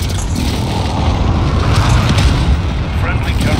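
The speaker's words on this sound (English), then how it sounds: "Friendly precision airstrike" Heavy, continuous rumbling roar of an airstrike bombardment in Call of Duty Modern Warfare (2019) on the Rust map, loud and sustained with no distinct gaps, while a voice is heard over it.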